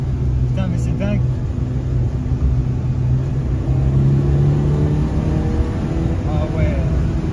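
A car engine pulls and revs under hard acceleration, a continuous loud rumble heard from inside the cabin while someone talks excitedly over it throughout.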